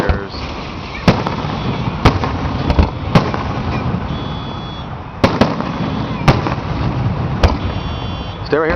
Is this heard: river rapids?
no